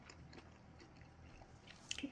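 Faint, close crunching bites and chewing of crisp Freschetta frozen pizza crust topped with peppers and pepperoni, with a few sharper crunches near the end.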